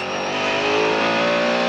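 A race car engine holds a loud, steady, high-pitched note at close range, passing through the gearbox at a chicane on a circuit with Mulsanne chicanes, with no voices.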